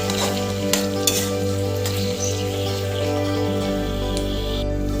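Goat liver frying with softened onions in a pan, a steady sizzle with occasional stirring scrapes over a constant low hum, close and fairly loud.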